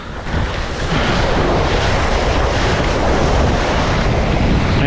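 Strong wind roars across the microphone over rushing ocean surf during a Flysurfer Sonic 5 foil kite session, a loud, dense, unbroken wash of noise that builds within the first second and holds steady.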